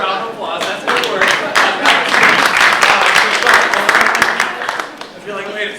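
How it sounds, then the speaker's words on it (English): Keynote audience at a higher-education tech conference breaking into dense, loud applause that swells and holds, with a speaker's voice running over it near the start and end. "So give yourselves a round of applause."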